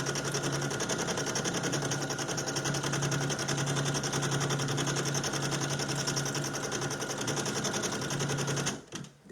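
A Brother PE800 embroidery machine runs steadily, its rapid stitching hum and needle chatter loud and continuous for several seconds before stopping abruptly at the end.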